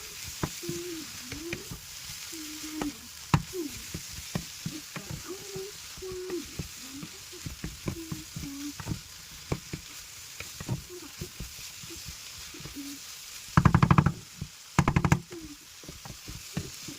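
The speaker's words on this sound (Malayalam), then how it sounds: "ഈ സോയ നമുക്ക് ഒന്ന് ഇളക്കി മിക്സ് ചെയ്തെടുക്കാം." Soya chunks stirred into masala paste in a pan, giving a steady sizzle with repeated scraping strokes, a couple of louder clatters near the end, and no talk.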